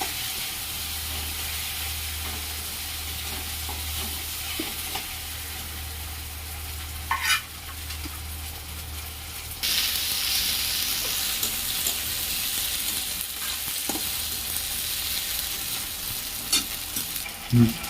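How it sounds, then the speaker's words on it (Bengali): Spice paste and tomato sauté together in a pan for an egg and soybean curry, a continuous close sizzle with occasional scrapes and stirs from the spatula. "এবার আমি এই মশলাটাই আবার টমেটোটা দিয়েও কষিয়ে নিব একসঙ্গে"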